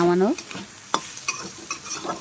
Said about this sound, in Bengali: এবার আমি চিংড়ি মাছটাকে ভালো করে নাড়াচাড়া দেবো